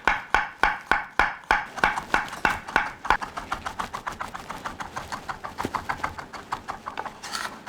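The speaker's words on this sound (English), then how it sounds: "To start, I'm going to get 2 cloves of garlic minced." Knife mincing garlic cloves on a cutting board, rapid regular chops at first, then faster, lighter taps in a steady close rhythm.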